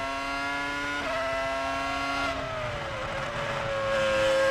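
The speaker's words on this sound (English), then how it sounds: "listen to that V10" Formula One V10 engine of Rubens Barrichello's Ferrari-chasing car at the 2000 Malaysian Grand Prix, a loud continuous high-pitched onboard scream with a gear shift dip and rising revs, no talk.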